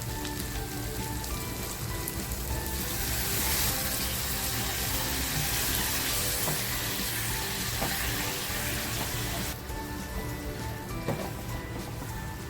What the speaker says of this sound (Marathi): आणि थोडंसं पाणी टाकून